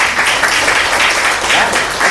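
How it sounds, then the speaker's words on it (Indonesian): Church congregation applause: a sustained, dense wash of many hands clapping together throughout, fairly loud and steady with no talk over it. "Beri tepuk tangan dulu"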